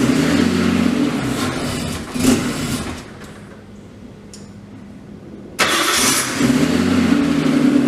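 An RB25DET engine swapped into a Nissan 240SX starts for the first time: the starter cranks, the engine catches into a loud rough idle, fades off, then fires and roars again, close and with no talking.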